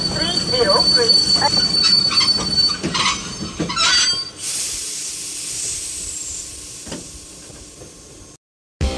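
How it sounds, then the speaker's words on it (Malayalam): A train arriving at platform one in the Indian Train Simulator game, the Ernakulam–Thiruvananthapuram Vanchinad Express: loud, close wheel squeal and rumble for about four seconds, then a steady hissing wash that fades slowly before a brief cutout. "train number 6303 Ernakulam Thiruvananthapuram വച്ചിനാട് express ഒന്നാമത്തെ പ്ലാറ്റ്ഫോമിലേക്ക് അല്പസമയത്തിനുള്ളിൽ എത്തിച്ചേരുന്നതാണ്"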